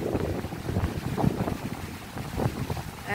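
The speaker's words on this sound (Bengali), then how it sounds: "দেখুন কি বাতাস বাবা," Strong wind gusting through a rural Bangladeshi village, buffeting the microphone with low, uneven rumbles and surges, fairly faint overall.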